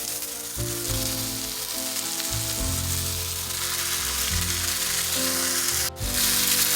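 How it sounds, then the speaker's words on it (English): Ground beef sizzles loudly as it fries in a pan with onion and garlic for baked ravioli, a steady close crackle that runs the whole time with no talking. "we're going to add our ground beef"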